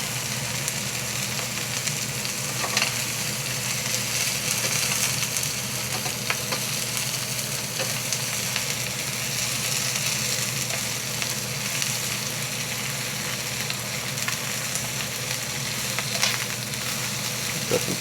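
Steak fries steadily in a hot pan, a loud, continuous crackling sizzle with scattered pops throughout and no voices.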